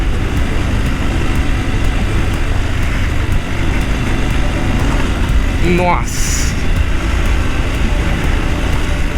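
An off-road motorcycle rides over a dirt trail with small jumps, its engine a loud, steady rumble throughout, with a brief rising rev near the middle and a rider's voice exclaiming over it.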